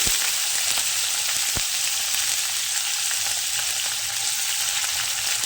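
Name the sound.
chopped onions frying in hot oil with chillies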